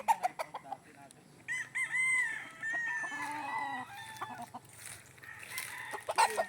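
Chickens at a backyard chicken coop cluck and chatter close by, with a rooster crowing through the middle; the birds keep up a lively, overlapping din amid faint background sounds.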